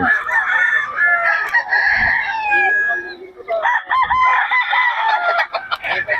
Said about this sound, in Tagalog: meron tayong mga manok na rin yan